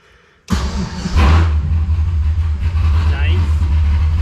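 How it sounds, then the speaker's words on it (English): A Mazda Miata with a newly replaced wiring harness cranks and catches after a brief quiet moment, then settles into a loud, steady, rumbling idle close to the listener. "you bump the starter, and it'll fire right up"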